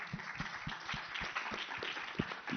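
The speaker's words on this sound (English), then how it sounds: "Merci beaucoup Malik, vous pouvez applaudir." An audience at an African innovation and startup financing event applauds, a dense steady patter of many hands at moderate level running throughout, with no one speaking over it.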